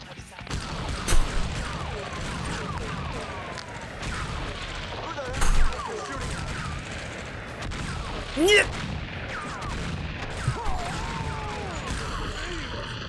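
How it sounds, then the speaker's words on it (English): Dual-wielded shotguns firing in an open-world police video game, sounding as a few loud, scattered booms over a constant busy game background of traffic and ambient noise. "I'm about to dual wield shotguns in my hand."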